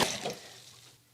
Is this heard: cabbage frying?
no